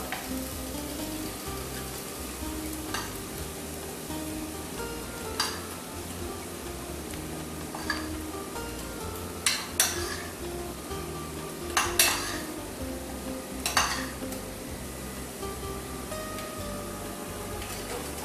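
A spoon stirs spices into chicken in a pan over a steady sizzle, with scattered metallic scrapes and clinks against the pan standing out at irregular intervals, close and fairly quiet, with no talking.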